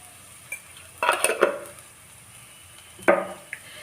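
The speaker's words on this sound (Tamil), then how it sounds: "மஞ்சள் தூள் போட்டு நல்லா வதக்கிட்டோம்" A few sharp clinks and scrapes of a utensil against a pan come while turmeric powder is sautéed for meal maker egg biryani, with quiet gaps between the stirs and a faint sizzle beneath.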